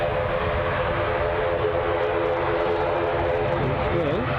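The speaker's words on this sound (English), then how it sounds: "Probably hear the rasping notes of the ATR 72" An ATR 72 turboprop airliner in Aer Lingus service at Glasgow International Airport drones steadily with a rasping, buzzing engine tone that holds at moderate level throughout, with faint chatter over it.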